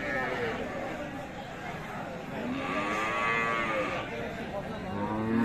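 Friesian cows and calves low and moo amid a busy crowd, with people talking all around in the noisy outdoor Aftabganj cattle market in Dinajpur, Bangladesh.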